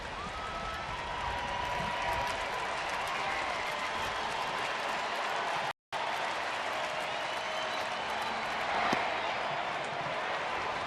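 Baseball stadium crowd during a Boston at Texas game in the late innings, a steady broad roar of cheering and murmur that holds loud and continuous, with a brief dropout midway.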